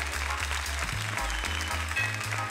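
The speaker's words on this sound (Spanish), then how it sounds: "Vamos a despedir a Néstor con un aplauso más bonito para él." A circus audience applauds a dog acrobat act, dense clapping that carries on under rhythmic low music beats.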